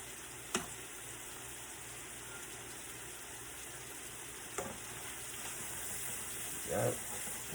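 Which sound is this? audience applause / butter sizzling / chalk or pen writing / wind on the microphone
butter sizzling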